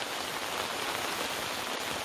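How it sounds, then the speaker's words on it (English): Heavy rain pours steadily onto a camouflage Napier Sports truck tent, a dense, even patter drumming close by on the fabric without a break. "It's rained all day long."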